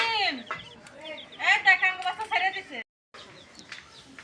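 Young chicks cheep and cluck in a series of close, high chirps, mixed with children's excited voices, before a brief silence and quieter chirping resumes.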